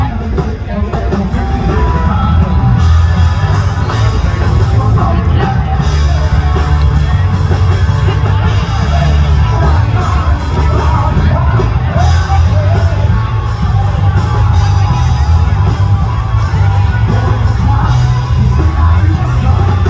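A packed bar crowd roars, whoops and yells continuously as women wrestlers Cookie and Medusa grapple in coleslaw at the Cabbage Patch Bar during 2023 Daytona Beach Bike Week, a loud, dense wall of shouting with voices mixed in throughout.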